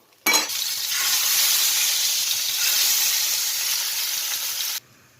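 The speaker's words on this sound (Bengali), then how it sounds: "তারপরে বাকি মাছটা ভেজে নেব" Parshe fish frying in oil in a pan, a loud steady sizzle that bursts in abruptly, holds evenly for about four and a half seconds, then cuts off, with no talking.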